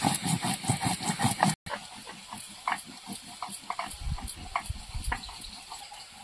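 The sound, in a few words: fish curry boiling in a pot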